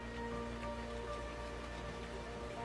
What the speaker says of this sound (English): The scene starts with the sound of rain.